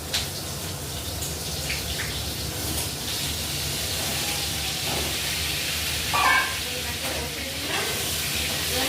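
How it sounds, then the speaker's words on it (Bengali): Pointed gourd with potato fries in a pan with salt and turmeric, a continuous hissing sizzle with some watery bubbling and a brief louder spurt near the end. "নুন হলুদ দিয়ে ভাজার জন্য আমি পটলটাকে বসিয়ে দিলাম"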